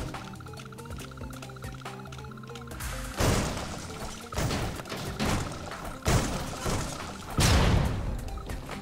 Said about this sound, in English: this blew up a gas tank